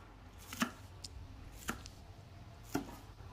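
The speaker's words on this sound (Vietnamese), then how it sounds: "cắt khúc khúc ra luôn" A knife chops green onions in three sharp, spaced cuts against a board, quiet and close.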